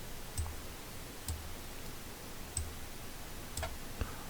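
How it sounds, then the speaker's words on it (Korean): Several sharp computer mouse clicks spaced irregularly, close and quiet over a faint steady room hiss, with no talking. "일단 한번 클릭 한번 해볼까요"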